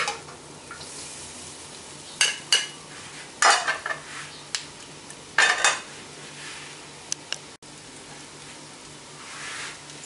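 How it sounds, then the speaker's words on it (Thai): Instant noodles are stir-fried in a sizzling pan, tossed with tongs and a metal spatula: repeated sharp scrapes and clacks over a steady frying hiss, close and fairly loud. "แล้วก็ใช้ที่คีบนะคะช่วยมันจะทำให้เส้นไม่ขาดจากกันมากนะคะก็อาจจะช่วยกันทั้งตะหลิวทั้งที่คีบก็ได้ค่ะ"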